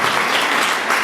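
A comedy show audience applauds, a short burst of dense, loud clapping from a crowd that fills the whole moment without pause.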